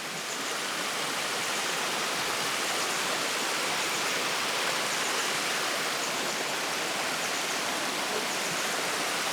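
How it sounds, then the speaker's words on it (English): Water rushes steadily and loudly at the Ikogosi warm spring, a dense, continuous roar with no breaks and no voices. "And the rush of the water here, so noisy."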